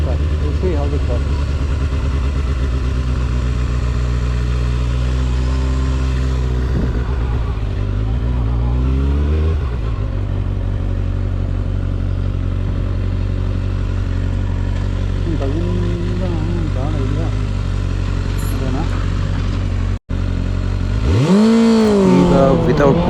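2024 Kawasaki ZX6R motorcycle accelerating hard and shifting gears without a quickshifter, a loud continuous engine roar with rising and falling pitch sweeps at each shift, heard close throughout.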